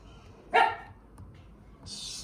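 A single dog gives one loud, close bark, followed by quieter room background and a faint hiss near the end.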